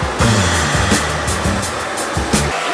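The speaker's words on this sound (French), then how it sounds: "Les mecs ont des sèche-cheveux dans leur salle de sport." A hair dryer blows steadily in a gym, a loud, continuous rushing whoosh with low droning tones wavering beneath it for almost the whole clip before cutting off near the end.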